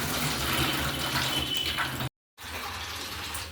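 Soaked dried peas being rinsed under steady running water, a constant rushing splash that cuts off briefly and then resumes.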